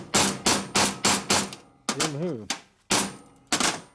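Sharp metal hammer blows driving a crank pin onto a Harley-Davidson 45 flathead flywheel in a workshop, a steady run of loud ringing strikes about half a second apart, with someone speaking briefly between hits.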